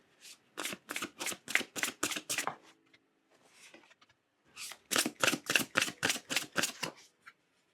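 Oracle cards shuffled during a tarot reading, two bursts of quick, crisp riffling flaps in a close, regular rhythm, separated by a short quiet pause with light handling sounds, and no speech.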